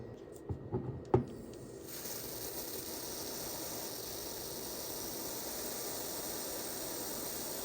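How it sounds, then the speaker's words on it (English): A few faint clicks and knocks, then a steady hissing spray from a freeze spray aerosol can, cooling a capacitor, that carries on evenly until the end. "go ahead and cool it down with this freeze it spray here"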